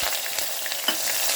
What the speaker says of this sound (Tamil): எண்ணெய் காஞ்சிச்சு, கடுகு போட்டுக்கலாம். ஆனியன், கருவேப்பிலை போட்டுக்கலாம்.